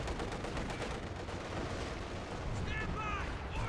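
Heavy rumbling artillery barrage in the Company of Heroes 2 strategy game on a winter Rzhev map, a continuous roar of blasts and gunfire with a commentator talking over it.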